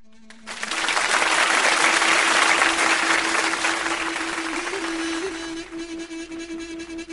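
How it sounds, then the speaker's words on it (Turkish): A studio audience at a Turkish television music show breaks into loud, full applause for an arriving guest, swelling quickly and holding steady before thinning out as a sustained tone continues beneath. "o güzel alkışlarınız değerli abim, sevgili imparator için geliyor"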